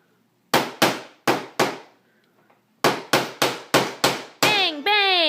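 A small child bangs a toy hammer in two bursts of sharp, evenly spaced knocks, four and then five, with a brief pause between them, followed by a squeaky toy tone at the end.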